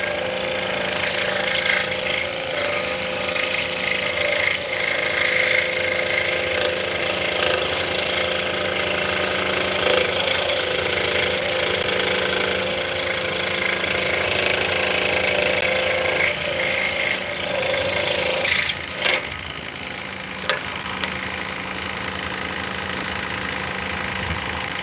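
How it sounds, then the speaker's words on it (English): Scroll saw cutting hard maple in a workshop, a steady, continuous buzzing drone with a dense mechanical whine, close and loud throughout with brief small dips near the end and no talk. "We're going to be spending a little time on the scroll saw"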